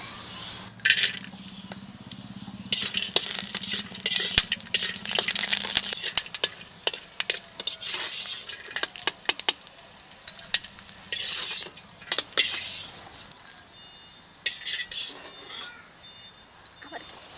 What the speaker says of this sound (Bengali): এই কাঁচা বাদামটাকে এখন তেলে দিয়ে ভেজে নেব